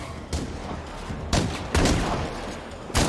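Gunfire in a first-person shooter video game: a few sharp, loud shots spaced about a second or more apart against a steady game background hum, with no talking.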